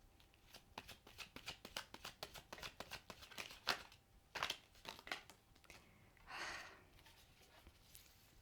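Rapid crisp riffling of tarot cards being shuffled, a quick fluttering burst of clicks that pauses, resumes in short bursts, then ends with a softer papery swish.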